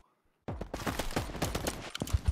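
Rapid gunfire bursts from an online multiplayer video game crackle densely and fairly loud, shot after shot with no real pause, while a voice comments now and then.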